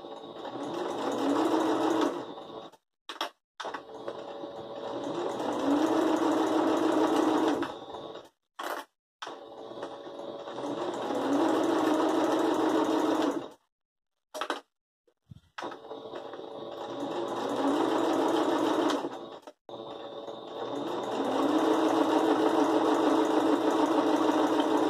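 A sewing machine stitches a fabric patchwork runner in steady, fast whirring runs of several seconds each, broken by brief pauses, close and clear with no talking.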